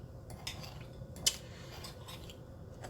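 Spoon scraping and clinking in a bowl while melted butter is stirred into a keto cheesecake crumble base, light irregular taps with one sharper clink, close and alone.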